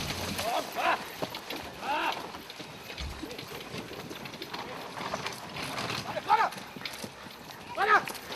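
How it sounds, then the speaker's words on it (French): Four-horse carriage teams enter the arena at the 2010 Saumur international driving competition, their hooves clip-clopping steadily under a commentator's voice, with birds calling faintly in the background. "les attelages à 4 chevaux que nous voyons rentrer en piste"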